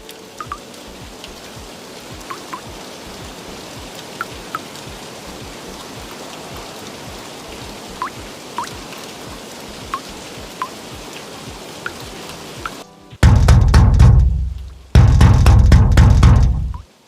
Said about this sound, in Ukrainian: Поки я працював, пішов дощ. Я любив звуки дощу.